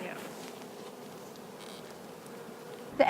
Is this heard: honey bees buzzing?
yes